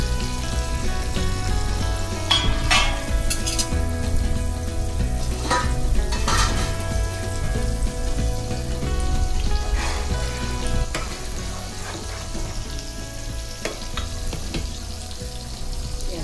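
Fish sizzling as it fries in a pan over a low gas flame, a steady dense crackle with occasional metallic scrapes and stirring clinks from utensils, close and continuous throughout, with no talk.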